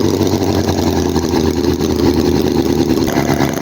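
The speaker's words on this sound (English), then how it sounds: "engine is sounding really, really good" A HOLT H75 vintage-style four-cylinder model engine runs at a steady, loud idle with a dense, even mechanical drone and no breaks or talk.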